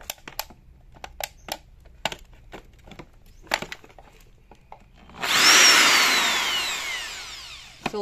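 A Bosch power drill switched on for a test run, first some scattered handling knocks and clicks, then a loud steady whir spinning up and holding for a few seconds, close by.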